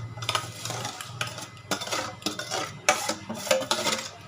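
Sweet-sour Maharashtra-style pickle ingredients being scraped and tipped into a pan, with metal utensils clinking and scraping against cookware in close, uneven bursts and no talk.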